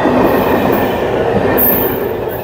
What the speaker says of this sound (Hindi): रही है ये गई यार ट्रेन, देखो यार